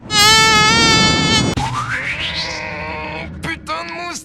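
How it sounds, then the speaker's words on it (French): A mosquito buzzes in the One Punch Man anime, a loud, high, steady whine up close that is followed by a rising sweep and a short distorted voice. "Putain de moustique!"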